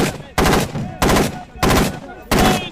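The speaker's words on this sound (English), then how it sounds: "they're firing back towards this farmhouse" Bursts of gunfire are fired toward a farmhouse, four loud, sharp volleys spaced roughly evenly, each a dense cluster of rapid cracks that decays into echo, heard close and alone.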